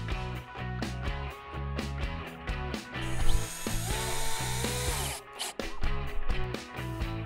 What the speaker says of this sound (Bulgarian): изпълняваме разпробиване на меката дървесина с фредло за дърво